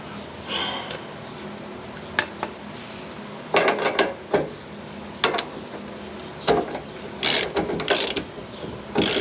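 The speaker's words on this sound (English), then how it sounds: "let's get a big wrench and I'll finish that up" A big wrench works on the radius arm bolts of a Range Rover Classic, giving bursts of close metallic ratcheting clicks and clanks separated by short pauses.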